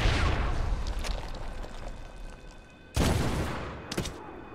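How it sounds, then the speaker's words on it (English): Mortar fire in Medal of Honor: a sustained rumble of distant battle broken by two sharp, loud blasts late on, the second shorter and followed by a small echoing thump. "They're dropping rounds into the tube. Bust them. Mortar inbound."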